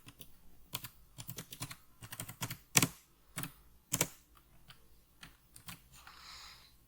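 Irregular bursts of quiet clicking keystrokes on a computer keyboard while a MATLAB bisection method program is typed, with short pauses between clusters of taps.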